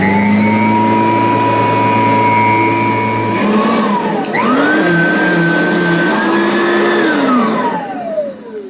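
Riccar upright vacuum cleaner running loud and close on a low pile area rug, holding a steady motor whine whose pitch dips and rises as it is pushed across, then winding down at the end.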